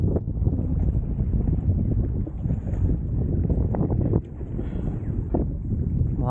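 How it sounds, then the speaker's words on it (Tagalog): Strong wind buffets the microphone on a boat during a sea fishing trip, a continuous rough rumble with gusty surges and faint water sounds, no voices. "Masyadong mahangin dito."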